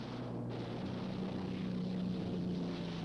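Piston-engined P-51 Mustang fighter planes in flight, a steady droning roar with a sustained engine tone that shifts slightly in pitch, constant and moderately loud throughout.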